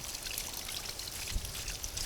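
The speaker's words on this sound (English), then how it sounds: "we pour a bit of water into it to prevent that it dries out" Water is poured into a plastic bag holding sieving residue, making a close, continuous trickling splash with small irregular gurgles and no talking.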